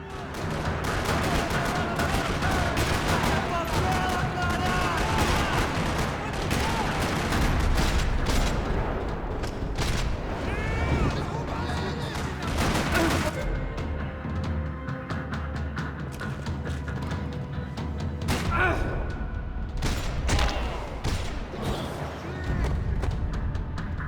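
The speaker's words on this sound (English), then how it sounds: "Another parking lot rattling with gunfire." Sustained gunfire in a parking lot in the video game Max Payne 3: dense bursts of automatic and single shots crackle almost nonstop, with loud close reports and a few heavier booms throughout.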